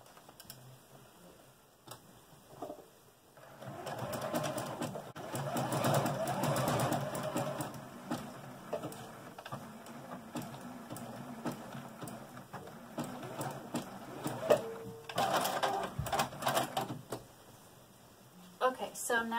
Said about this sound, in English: take it back to your machine and you're going to now zigzag stitch along these remaining two sides